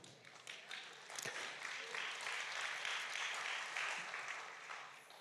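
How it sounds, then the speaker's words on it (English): An audience at an evening church event with a pastor breaks into applause, a soft, fairly distant wash of clapping that swells and holds steady before easing off slightly. "I don't need the clapping."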